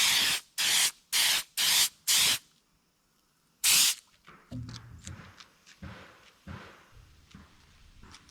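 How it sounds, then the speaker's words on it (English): Spray gun applying two-part automotive gloss coat to a smallmouth bass replica: five short hissing bursts in a steady rhythm, then one more after a pause, loud and close, followed by quieter handling noise. "I spray on a thin flash coat, let it sit for about 10 minutes, and then give it a final heavier coat."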